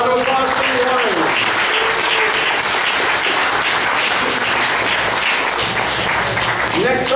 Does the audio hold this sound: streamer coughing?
no